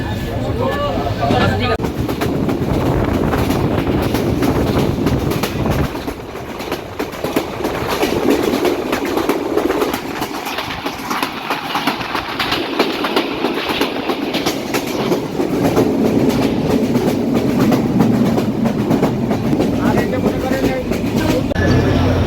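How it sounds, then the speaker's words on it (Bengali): The Jahanabad Express passenger train from Khulna, on its inaugural run, pulls into Noapara station in Abhaynagar, Jessore. A loud, continuous rolling rumble with clickety-clack from the wheels plays throughout while people talk nearby. "প্রথমবারের মতো খুলনা থেকে ছেড়ে আসা আটশো পঁচিশ আট জাহানাবাদ এক্সপ্রেস যশোরের অভয়নগরের নোয়াপাড়াটি স্টপেজ দিয়ে প্রবেশ করছে"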